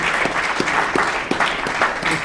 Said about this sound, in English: can we please give a round of applause and welcome Simon